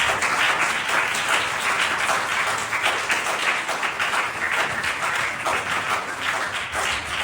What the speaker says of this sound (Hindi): जोरदार ताली से स्वागत करें